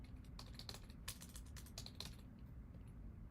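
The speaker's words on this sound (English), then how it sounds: "Let's just be true to typing, get it into our fingers." Quick, irregular clicks of fingers typing on a computer keyboard while writing CSS code, a close, quiet burst of keystrokes that stops after about two seconds.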